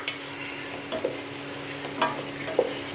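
Masala with onions and vegetables frying in a pan for mutton biryani, with a soft steady sizzle and a few light stirring scrapes and clinks.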